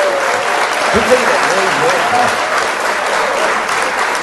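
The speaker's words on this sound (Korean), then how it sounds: "박수 한번 주세요." Festival audience at an outdoor song contest beside a pond applauding, dense continuous clapping from a crowd throughout, loud and near, with someone speaking briefly over it.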